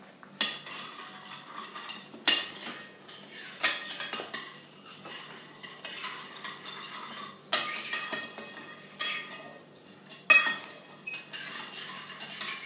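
A spoon stirs oil-free popcorn in a pan, giving repeated scraping clinks and rustles with several sharper metallic knocks spread across the stretch, close and moderately loud, with no talking.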